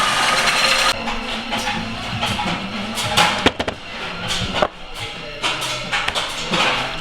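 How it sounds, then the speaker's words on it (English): A power tool cuts a big oval hole out of two round holes in metal on a BMW E46 M3 restoration getting a V10 conversion, a loud grinding whine running steadily, broken by sharp bangs and pauses. "We're cutting a big oval hole out of 2 round holes."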